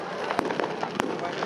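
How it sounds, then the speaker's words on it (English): Fireworks exploding at a celebration, with two sharp bangs and a faint crackle over a noisy outdoor crowd. Voices can be heard talking in the background. "Oh, that's pretty, isn't it? Don't we all love fireworks?"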